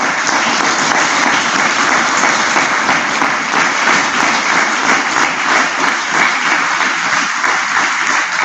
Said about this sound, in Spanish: Y pido un aplauso para él.